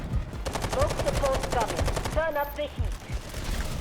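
Rapid automatic gunfire from the video game Delta Force: Hawk Ops rattles loudly in sustained bursts, broken by a short pause and a final few shots, with game effects and faint voices mixed in.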